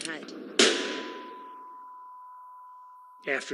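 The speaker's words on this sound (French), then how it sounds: "Après avoir entendu le coup de feu" A single sharp gunshot cracks out and decays into a long ringing tone, with faint speech just before and after.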